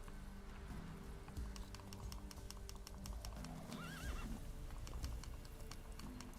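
Roach, the horse in The Witcher 3: Wild Hunt (Switch), gallops with steady rapid hoofbeats and lets out a clear whinny midway, over continuous game music with no talking.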